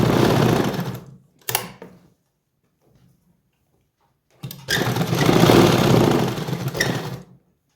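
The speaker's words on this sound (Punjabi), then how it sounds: "ਇਹ ਤੋਂ ਫਿਰ ਮੋੜ ਕੇ ਇੱਕ ਡਬਲ ਸਲਾਈ ਲਾਵਾਂਗੇ" A sewing machine runs close up while stitching a double seam on plazo pants: a loud whirring burst, a brief second run, a few seconds of near-silence, then a longer steady stitching run.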